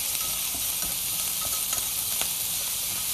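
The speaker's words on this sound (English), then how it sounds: "But once you get the butter and the flour in there, you need to start whisking, whisking, whisking." A butter and flour roux sizzles steadily in a hot pan while a whisk scrapes and ticks through it in an irregular rhythm, loud and close with no talking.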